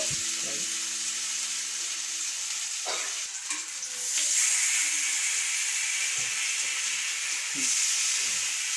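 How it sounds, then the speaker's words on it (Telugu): Marinated fish pieces fry in hot oil over a low flame, giving a steady, close sizzle and hiss with occasional stirring scrapes and clinks of a utensil in the pan; no one speaks. "ఆయిల్ వేడయ్యాక మనం మ్యారినేట్ చేసుకున్న చేప ముక్కల్ని వేసి లో ఫ్లేమ్లో మగ్గనివ్వాలి"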